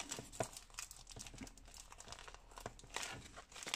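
Packaging for a 14 x 19 cm photo frame kit is unwrapped up close, with continuous crinkling and crumpling plastic and paper plus a few sharper tearing rustles, quiet and unbroken by talk.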